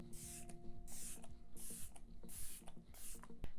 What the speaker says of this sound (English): Hold the spray about 30 centimeters away from your face, close your eyes and lightly mist it all over your face.